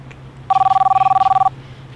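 A phone rings close by and loud, with a rapid electronic trill of about one second, then stops, against a quiet room hum.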